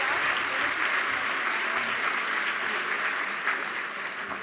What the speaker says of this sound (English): One last round of applause for Ambassador Kennedy.